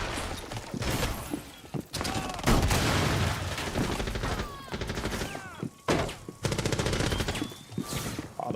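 Shotgun blasts and other gunfire in Rainbow Six, a string of heavy, loud shots with short gaps between bursts, mixed with clattering impacts and a few whooshing effects.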